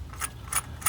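A ratchet loosening a spark plug on a 2010 Honda Accord, three quick, close clicks spaced evenly across one second over a low hum.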